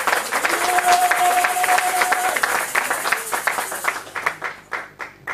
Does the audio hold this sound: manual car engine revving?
no